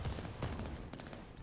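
STG44 assault rifle in Call of Duty: Vanguard firing through a wall, a rapid automatic burst of dense, muffled gunfire lasting about a second and a half.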